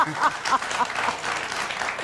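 A studio audience on a daytime talk show about defense attorneys breaks into applause, a dense, steady patter of many hands clapping for about two seconds at moderate loudness.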